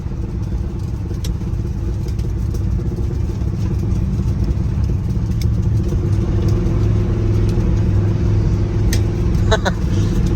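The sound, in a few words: 1967 Chrysler 300 with 440 engine driving in first gear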